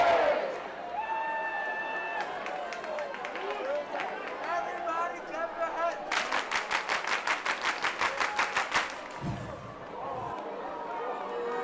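Spectators at an ultimate frisbee open final between USA and Canada clap in a fast, steady burst with scattered cheers, building briefly and then fading, all under continuous commentary.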